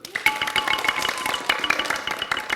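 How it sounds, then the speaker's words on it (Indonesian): A group of children clap their hands on request during a storytelling session at an Indonesian children's studio, a quick, uneven patter of claps near and fairly loud, with no talk over it. "Tepuk tangan dulu."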